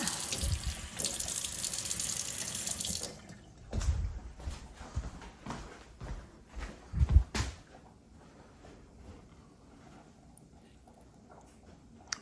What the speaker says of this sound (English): You just add a little bit of water to the hot plate that's down there.